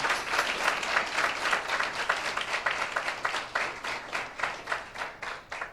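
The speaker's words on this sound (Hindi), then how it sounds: "जोरदार ताली देते हैं" A church congregation gives loud applause during a sermon, a steady rhythmic patter of many hands clapping together throughout, moderately close and without talk over it.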